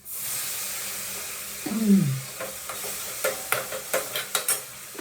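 Water poured into hot egg curry masala bursts into a loud sizzling hiss, then settles into steady frying crackle with a series of spoon scrapes and stirring knocks, close up and without speech.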